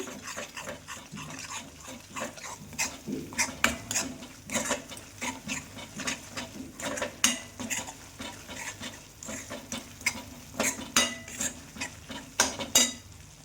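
A spoon stirs dry garlic chutney with salt and coriander-cumin powder in a pan, making repeated scraping and tapping strokes in an uneven rhythm over a faint background sizzle, close and moderately loud.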